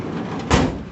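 A cluttered workshop drawer sliding open, a single short rumbling scrape with a rattle of loose hardware, close and fairly loud, no talk.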